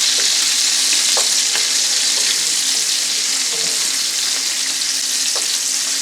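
Sausages for a Cajun shrimp and sausage pasta frying in a pan, with a loud, steady hiss of sizzling fat and occasional faint taps as they are turned, close up, no talk.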